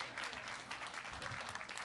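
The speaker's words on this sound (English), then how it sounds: "You can applaud that if you like." Audience at a New Hampshire political town hall with voters breaks into steady, dense applause, loud and close, sustained through the whole moment without a break.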